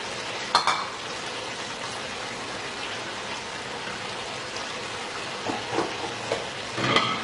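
Vegetables sizzling and stir-frying in chicken chilli gravy in a pan, a continuous hiss of frying with occasional louder spatters and stirring clicks, close and steady.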